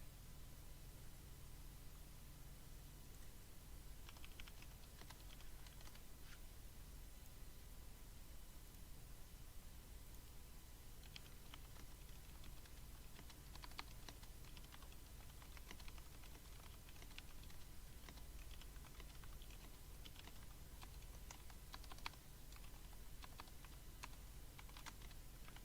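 Typing on a computer keyboard, with clusters of key clicks running through a steady hiss of background noise, fairly close and moderately quiet, with no talking.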